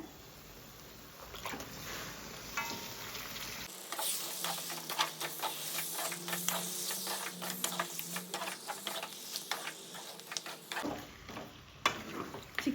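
One kilo of chicken goes into a pan of pepper masala for Tamil pepper chicken and is stirred. A close, steady sizzle runs under a series of quick scraping spoon strokes, with no voices.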